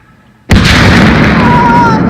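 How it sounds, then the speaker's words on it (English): A single loud, close boom of a cannon shot at a historic battlefield site bursts in after a quiet moment, followed by a long, rumbling roar that sustains and slowly fades, leaving a lot of smoke. "This is gonna be loud. Ready for the cannon?"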